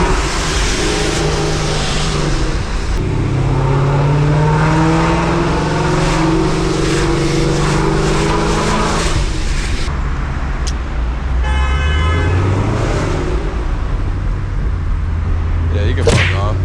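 A 1100-horsepower Ford Mustang roars at night through downtown Los Angeles streets, its engine revving and droning loud and close, with a deep low rumble that swells and drops under an overpass, plus brief sharp pops and a short whine near the end.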